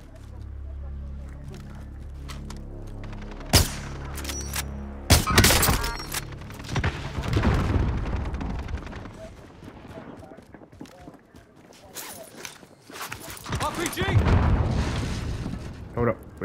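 Gunfire crackles during an online shooter match, with sharp shots and heavy thuds among explosions, while players talk over the action.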